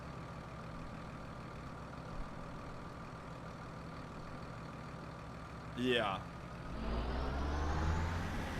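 A tractor engine in Farming Simulator 17 hums steadily in the background, then revs up with a rising whine and settles into a louder, deeper running drone as a voice speaks briefly.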